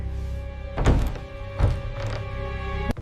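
A door is jolted hard against its frame in three or four dull thunks, spaced irregularly, with a sharper knock at the end.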